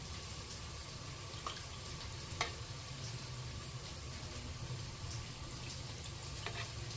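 Ragi semiya steams in an idli steamer, giving a faint, steady hiss and gentle bubbling with a few soft clicks, heard alone without talk.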